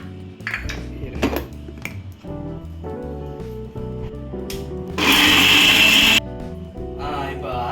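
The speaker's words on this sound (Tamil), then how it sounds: "மிக்சியில் போட்டு லைட்டாக அடித்து எடுத்துக்குவோம்." A kitchen mixer grinder grinds grated coconut in rough bursts: clatter and whirring at first, then a loud, steady high-pitched run for about a second, then easing back to a lower hum.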